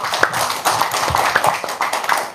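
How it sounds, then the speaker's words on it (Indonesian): An audience claps at a talk or gathering, a dense, steady patter of many hands at close range that continues without pause for the whole stretch. "Tepuk tangan dulu dong."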